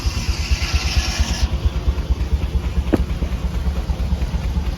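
A small Rumley steam tractor fired on diesel runs hard, driving a sawmill at a Pioneer Days show near Eau Claire, Wisconsin: a loud, fast, steady engine chug with a brief sharp clank partway through.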